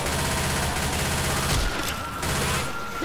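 Sustained automatic gunfire in a zombie-shooting video game as a witch is shot, a loud, continuous rattle of bursts with a brief break midway.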